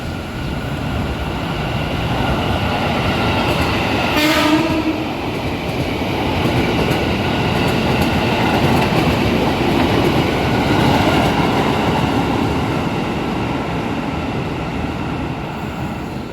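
A KRL commuter electric train in Indonesia passing close by at a station, a continuous loud rolling roar with rail rumble and a brief high whine, steady throughout.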